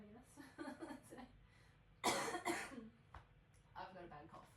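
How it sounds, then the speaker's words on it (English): Harsh, bursty coughing fit from a nearby speaker: one loud cluster of coughs mid-clip with a smaller cough after, set among stretches of conversational talk. "I've got a bad cough."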